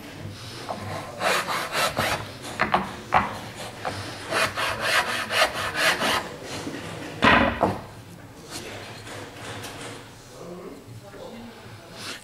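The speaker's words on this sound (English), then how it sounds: "We might just tidy that up a little with the file." A hand file rasping over a wooden tenon in a furniture-making workshop, with bursts of scraping strokes in an uneven rhythm, one sharper knock, then quieter handling while someone talks nearby.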